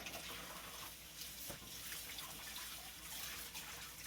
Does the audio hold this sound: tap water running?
yes